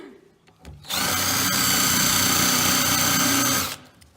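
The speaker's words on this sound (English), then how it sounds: "you can see it's so easy to drill even with a screwdriver" Whirring screwdriver bores into WoodUBend moulding, a steady high-pitched motor whine running nearly three seconds, close and loud, preceded by a few small clicks and ending abruptly.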